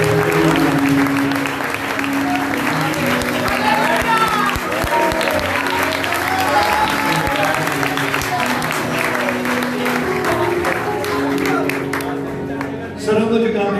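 A crowd at a healing prayer meeting claps loudly and continuously, with voices and some music-like tones running underneath, before the applause thins out near the end.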